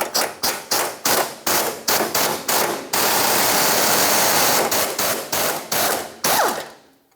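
Bolts on the fuel tank straps of a 2002-2005 Ford Explorer are spun out with a rapid, loud power tool, rattling bursts in a quick rhythm, a longer continuous run midway, then more short bursts, close by.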